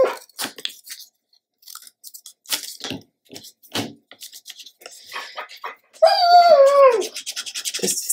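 A dog whines and makes a long, wavering howl-like cry close by, breaking in after stretches of scattered crunching and light handling noises.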